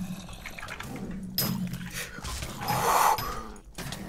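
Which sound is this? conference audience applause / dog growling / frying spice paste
dog growling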